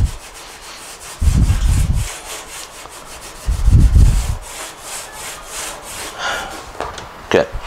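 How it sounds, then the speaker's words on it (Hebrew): A metal scouring pad scrubs the dry surface of a Ninja grill in two long, loud rasping strokes, followed by quieter scraping and faint brief sounds. "אנחנו צריכים פשוט לשייף את זה, מה שנקרא."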